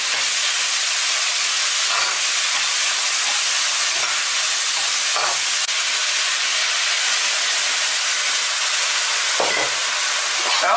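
Steady loud sizzle and hiss of green beans stir-fried with minced pork in a hot wok, with occasional soft scrapes of the spatula tossing the food, continuous and close with no talk.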